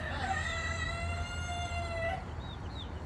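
A rooster crows once, a long drawn-out call lasting about two seconds over low background hum, followed by faint chirps.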